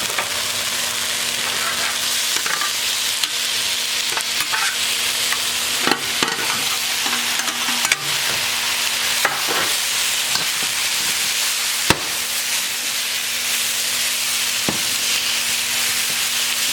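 Eggplant stir-frying in a wok over high heat, a steady loud sizzle with occasional scraping clicks of stirring, no voices.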